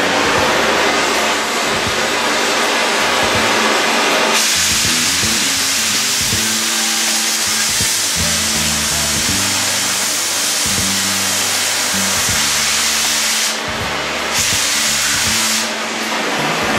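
Oxy-acetylene cutting torch slicing through steel with the oxygen lever pressed, a loud continuous roaring hiss that swells and holds steady with low rumbling underneath, no talking.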